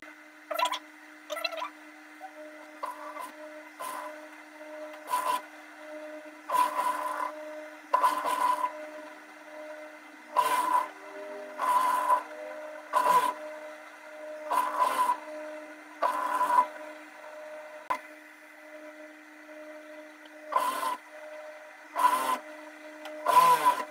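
Sewing machine stitching a patchwork quilt with a built-in lining, running in short repeated bursts of whirring needle clatter separated by brief pauses, close and clear with no talking.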